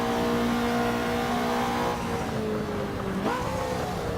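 Ferrari 288 GTO engine in the Assetto Corsa racing game, held at high revs with a steady droning whine, then dipping and jumping in pitch as it over-revs near the end, loud and continuous without talk.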